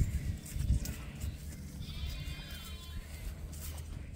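A show sheep on a farm bleats at close range in a short, soft cry, with quiet farmyard background.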